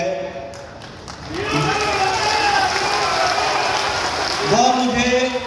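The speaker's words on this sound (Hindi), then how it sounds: "जो आपकी मैं खुशी देख रहा हूं और जो मुझे नारों की आवाज सुनाई दे रही है और जो तालियों की गड़गड़ाहट की आवाज सुनाई दे रही है" A large crowd at a BJP election rally on an open ground chants slogans and claps, with voices rising in sustained, loud waves of cheering that swell toward the end.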